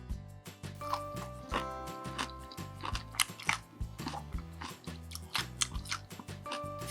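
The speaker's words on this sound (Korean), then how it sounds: "한번 먹어볼게요." Crunchy chewing of seasoned hijiki seaweed salad, dressed sweet and sour, comes in repeated bites close to the mic, partly buried under steady background music.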